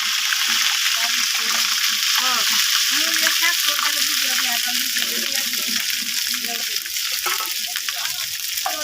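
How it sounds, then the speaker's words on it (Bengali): Mixed rice and dal cook in a wok with a constant, loud broadband hiss and bubbling, while voices murmur intermittently in the background. "এখন একটু রান্না করতেছে তো এক করাই রান্না করবে"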